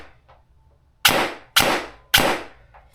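Three sharp airsoft shots from a VFC MP5A4 DSG fired on semi through a chronograph, spaced about half a second apart, each a loud crisp crack with a short decay over a quiet background.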